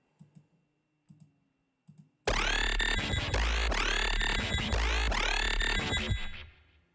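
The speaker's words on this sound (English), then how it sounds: "It's basically just pitch shifting, but I'm using ring mod to do it, so it gives it an interesting sound." Synth sound in an FL Studio drumstep drop, pitch-shifted with ring modulation: a few soft short blips, then a loud, bright, metallic pulsing tone with repeating sweeps that lasts several seconds and fades out.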